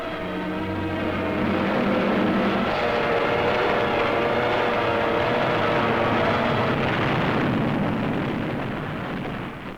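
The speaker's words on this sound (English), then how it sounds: "We call them suicide planes, manned by pilots wearing the ceremonial red sash of the kamikaze corps." Kamikaze suicide planes attacking a naval fleet in 1945, a loud, continuous roar of aircraft engines and explosive blasts with droning tones, sustained close throughout.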